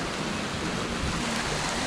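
A river flows steadily beside a campground at Caringal in Victoria, a dense, continuous broadband rush with no pauses, fairly loud and close.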